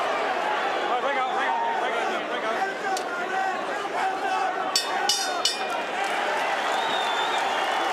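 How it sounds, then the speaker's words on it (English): Boxing crowd at the 1989 Iran Barkley versus Roberto Duran fight chanting Duran's name: a sustained, dense roar of many voices rising and falling, with a commentator talking over it. "again, the crowd picks up the chant of Duran's name"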